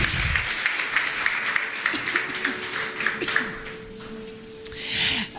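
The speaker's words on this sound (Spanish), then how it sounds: "Bríndale ese fuerte aplauso al Señor" Church congregation applauding during a worship service before a woman preacher's sermon, a burst of clapping that thins and fades out, with a sustained tone and some murmuring near the end.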